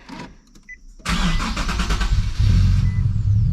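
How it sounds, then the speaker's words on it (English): A Nissan 370Z with a fuel top hat fault cranks and catches: a few faint clicks, then the starter whirs and the engine fires into a loud, rough idle, close up. "now we're gonna go ahead and try and give this car a start"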